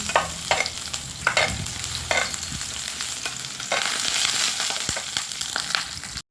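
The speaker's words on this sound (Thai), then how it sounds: "น้ำมันร้อนใส่กระเทียมลงไปเจียวกระเทียมให้หอม" Garlic frying in hot oil, a bright continuous sizzle that swells louder midway, broken by scraping stirs of a utensil against the pan, close up with no voices.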